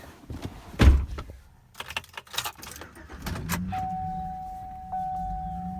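Keys jangle and a car door thunks shut, followed by rustling inside the vehicle before the engine starts and settles into a steady low idle with a faint electronic tone, out in the rural Ozarks.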